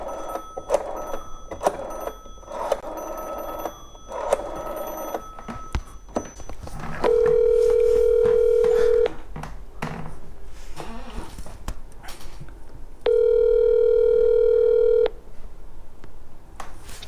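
Telephone keypad tones beep in quick short bursts, followed by two long steady ringback tones separated by a gap, loud and close with no talking.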